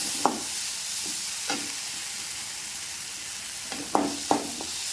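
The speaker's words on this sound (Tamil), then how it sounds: "கொஞ்சம் வதங்கட்டுங்களா" Green lablab beans and field bean gravy sautéing in a pan, a steady close sizzle broken by a few sharp knocks and scrapes as a spoon stirs the mixture.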